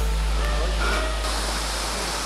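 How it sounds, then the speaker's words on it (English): A waterfall at Jhari Falls in Chikmagalur, heard as a steady, loud broadband rush of falling water that continues without a break. "Finally we can see the waterfalls."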